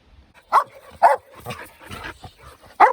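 A dog barks sharply three times close by, with short irregular gaps, amid soft yips and whimpers outdoors during a farm building project.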